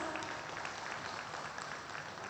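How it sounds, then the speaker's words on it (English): An event audience in the UAE claps steadily, a dense, even patter of applause throughout at moderate distance with no break. "Give a big round of applause."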